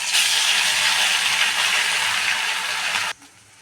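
Onion hits hot oil for a tempering and sizzles loudly and steadily for about three seconds, then the hiss drops away abruptly to a quiet background.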